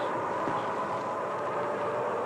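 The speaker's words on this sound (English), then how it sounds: "The long train gathers speed as it winds its way along the tracks." A 1940 Baltimore & Ohio passenger train gathers speed along the tracks, a steady broadband rumble and roar of rolling cars held at an even, fairly loud level throughout.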